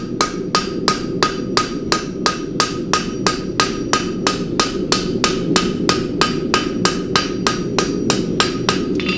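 A hammer taps a fluxed scarf on a straight bar horseshoe in steady, evenly spaced strikes, roughly three per second, close and sharp throughout with no voices.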